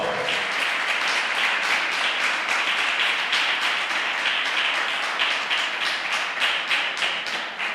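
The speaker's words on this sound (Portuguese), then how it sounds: "Você pode aplaudir o nome do Senhor?" A church congregation applauds steadily during a worship service, dense continuous clapping that stays loud and even throughout with no voices breaking through.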